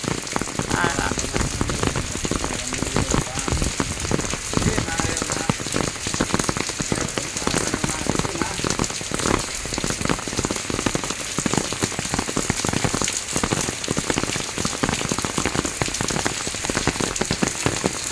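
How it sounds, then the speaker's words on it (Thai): Rain falls during a sunshower at a bricklaying and plastering work site, a dense, steady patter of drops hitting a surface that continues throughout. "ฝนตกแดดออกด้วย"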